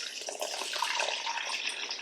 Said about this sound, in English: So we're going to add in some warm, I guess it's actually more room temperature water